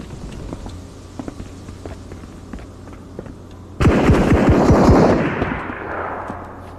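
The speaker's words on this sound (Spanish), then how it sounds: "Sé que está disparando con el rifle semiautomático." Semi-automatic rifle fire from the video game Marauders, a burst of sharp, loud cracks fired in quick succession after a few seconds of quieter scattered ticks and steps, followed by a fading echo.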